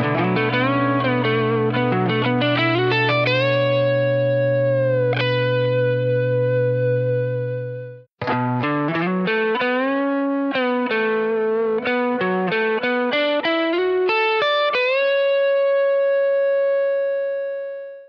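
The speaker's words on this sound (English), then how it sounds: "there's another whole step bend that effectively takes us outside the pentatonic scale" An electric guitar with distortion plays a minor pentatonic lead with whole-step string bends that reach outside the scale, sustained notes sliding up in pitch, loud and alone with a brief break midway.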